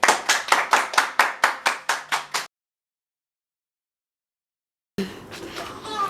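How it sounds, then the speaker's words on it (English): A group claps hands in a steady rhythm of about ten crisp, loud beats, then everything goes silent before voices and movement resume. "Everybody clap your hands."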